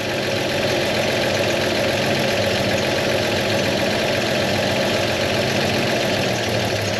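An old car nicknamed Old Yeller idles on the leftover fuel in its carburetor float bowl, a steady, loud, close engine rumble with a slightly uneven knocking pulse.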